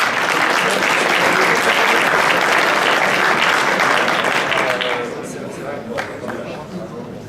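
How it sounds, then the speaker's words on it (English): Loud audience applause for a hackathon challenge winner at a closing ceremony fills the room, dense and sustained before thinning out into scattered claps, with someone speaking over the tail. "Let's give a round of applause again to Cisco, their challenge winner"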